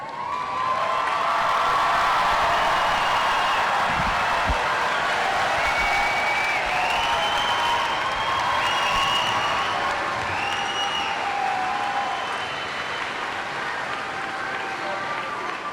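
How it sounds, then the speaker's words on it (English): A graduating high school class at a commencement ceremony gives its goodbye cheer, a dense sustained roar of crowd cheering and applause that stays loud and steady throughout, with a scattering of shouts rising above the wash. "Will the class of 2019 please rise for your goodbye cheer?"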